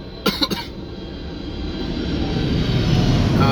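Airplanes flying overhead above an outdoor parking lot make a steady broad roar that slowly builds in loudness, after a couple of brief sharp coughs or thumps at the start.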